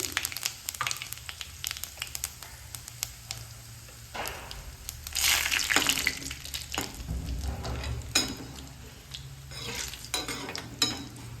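Oil crackles and sizzles steadily as cumin and asafoetida hit a hot pan, with occasional stirring clatter and bursts of louder frying.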